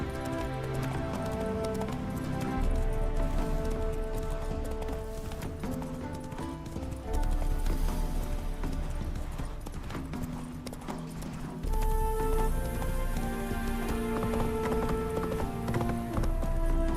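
Roach the horse galloping in The Witcher 3: Wild Hunt, a steady rhythmic clip-clop of hooves over game music, with a brief whinny, continuous and close throughout.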